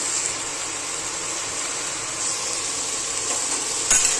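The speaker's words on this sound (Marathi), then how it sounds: "आता हे ना चांगलं असं तेलामध्ये फ्राय होऊन द्यायचं चांगले मसाले सगळे भाजून घ्यायचे" Red chili powder and mutton masala fry in a little oil in a pan, making a continuous bright hissing sizzle close by, with a faint clink near the end.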